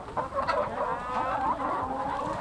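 A crowd of young pullet hens in a chicken house clucks and murmurs continuously indoors, a dense chorus of overlapping calls at steady volume.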